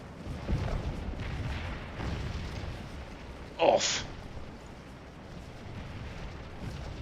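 Artillery cannons fire in a Scourge of War Antietam battle: muffled, distant booms recur amid a low battlefield rumble, with one sharper crack standing out, all under someone talking.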